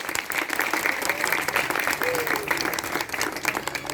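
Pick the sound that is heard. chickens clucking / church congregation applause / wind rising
church congregation applause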